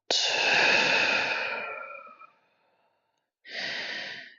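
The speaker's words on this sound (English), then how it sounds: "and breathing out." A slow, breathy exhale during seated chair yoga for the lower back, loud and close, fading out over about two seconds; after a short silence a second breath begins.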